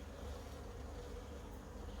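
Honeybees buzz steadily at an opened hive, a dense continuous hum close by.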